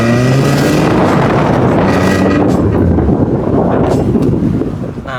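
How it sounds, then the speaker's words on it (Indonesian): Exhaust of a Suzuki Ignis car, a loud, close, steady rumble under heavy wind buffeting against the microphone. "Menurut gue suara knalpotnya selalu lumayan enak."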